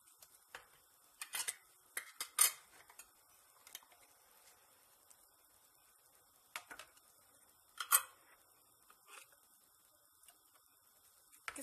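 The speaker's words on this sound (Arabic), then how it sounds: "تو الببز هذو نتاعي عبيتهم بالماء، تو تسكرهم بالقدا" Glass jars filled with water being closed with their lids, a few sparse, sharp clicks and clinks of lids and glass, quiet and near, with long silent gaps between them.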